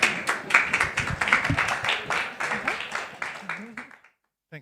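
Lively applause from an audience at a forum speakeasy event, dense clapping with rhythmic bursts running for around four seconds before cutting off abruptly into silence.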